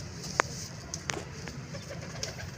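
Kept pigeons coo and call in a loft, a few brief soft calls over a steady background hum.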